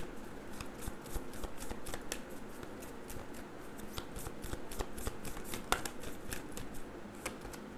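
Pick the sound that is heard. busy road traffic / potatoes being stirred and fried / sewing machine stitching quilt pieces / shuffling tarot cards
shuffling tarot cards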